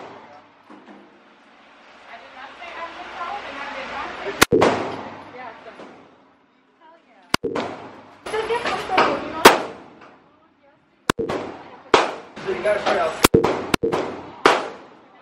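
Sharp, loud gunshots ring out one at a time at an indoor shooting range, with several single reports spaced apart and people talking between them.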